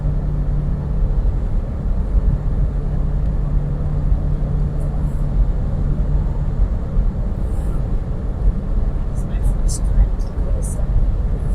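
A 2003 Hummer H2 cruising at highway speed around 65 mph, giving a steady, loud broadband road and engine drone with a low hum throughout, with no one talking.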